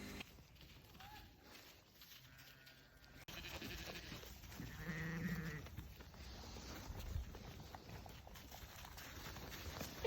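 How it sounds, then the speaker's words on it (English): A flock of lambs and cull ewes on a snowy winter farm in the Peak District, with several bleats and shuffling movement at moderate distance, and faint talk mixed in. "This is the group of lambs from last year, so Bambi and Phantom and the other lambs"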